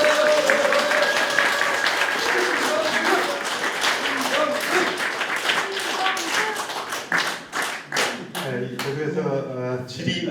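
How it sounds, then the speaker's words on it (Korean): Audience applause fills a press conference where a National Assembly candidate announces his run in Yeongju, a dense, steady patter of many hands for about eight seconds that thins out as a voice begins talking over the end. "다시 한번 큰 박수 부탁드립니다"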